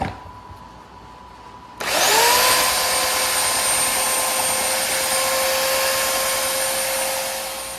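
A power sander with 400-grit paper on a wooden live edge patio table top starts up suddenly, then holds a loud, steady motor whine.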